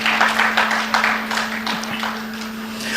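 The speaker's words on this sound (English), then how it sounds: "I think we need to applaud that." Audience applause at a Nigerian national community resilience retreat, a moderately loud scatter of clapping that slowly thins out over a low, steady electrical hum.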